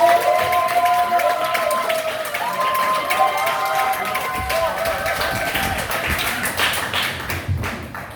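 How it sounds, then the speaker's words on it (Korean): A hall of high school students at a church summer retreat claps loudly and continuously, a thick wash of applause with some cheering, while a voice speaks over it early on. "고등부에서는 이렇게 박수 소리 처음 들어봤어요"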